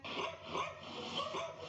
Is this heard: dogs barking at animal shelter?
yes